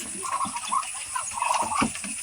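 Ducks on a duck farm in laying season call out together in a busy, overlapping chorus of quacks, close and fairly loud.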